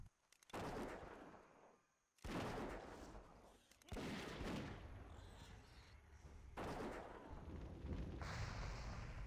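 Gunfire in World of Warcraft (Wrath of the Lich King Classic) with enemies shooting at the player: several loud, broadband bursts of shots and impacts separated by brief gaps, close and dense, with no speech over them.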